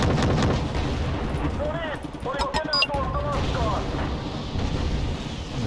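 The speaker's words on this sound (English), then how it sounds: "That'll be a nice bombing strike" Bombing strike explosions rumble in the Wargame Red Dragon battlefield, a dense continuous roar of blasts and gunfire with a few clustered bangs, while someone talks over it.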